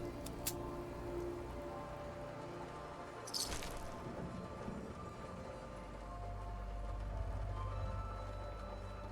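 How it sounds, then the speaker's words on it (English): Rain drums on a tin roof in the video game Fallout 4, a steady, fairly faint patter with occasional louder splashes and a low rumble growing toward the end. "I never noticed the rain on a tin roof sound."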